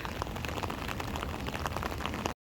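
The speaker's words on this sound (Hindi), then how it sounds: "बाहर बहुत तेज़ बारिश हो रही है" Heavy rain pours outside in a steady, dense patter of drops hitting surfaces, constant and moderately loud with no voices, cutting off abruptly at the end.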